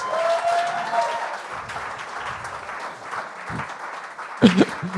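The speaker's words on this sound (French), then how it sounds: "on peut l'applaudir" A studio audience on a French-language TV talent show claps in a steady burst of applause, moderately loud, with a host's voice and scattered voices heard alongside.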